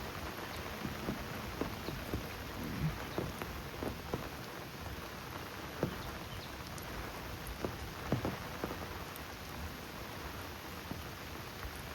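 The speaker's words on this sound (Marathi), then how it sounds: "पाऊस पडतो बघा" Heavy rain falls steadily and patters on surfaces, with scattered louder drops standing out from the constant hiss.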